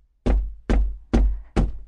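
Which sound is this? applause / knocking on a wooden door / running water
knocking on a wooden door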